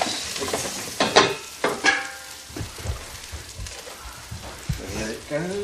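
Rice being stirred into hot oil with caramelised onions, giving irregular scraping stirs and a soft crackling sizzle close by.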